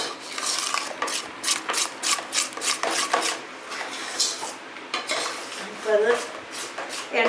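Batter for dhokla (khaman), made from gram flour with oil, is stirred in a bowl, producing repeated scraping and clinking strokes of a spoon against the bowl at a steady, moderately close rhythm, with no talking.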